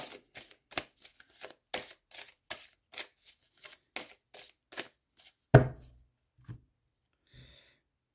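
Tarot cards are shuffled in a steady run of crisp riffling bursts, then one sharp cut or tap on the table, followed by near silence and a faint later sound.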